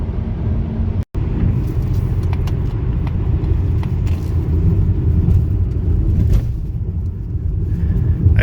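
A 2025 Mazda CX-30 small SUV driving in fifth gear with speed rising: steady loud low road and engine rumble from inside the cabin, with a brief dropout near the start.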